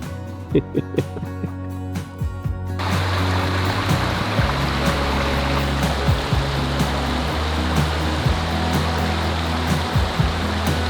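A river flows steadily past, its broadband rushing water filling the scene after a few seconds of quieter sound with scattered knocks, then holding a constant, fairly close wash to the end.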